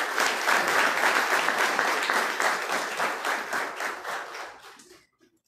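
At a city council ceremony awarding honorary citizenship titles, the audience gives a loud round of applause with clearly audible individual claps, sustained for about four seconds before tapering off abruptly into silence.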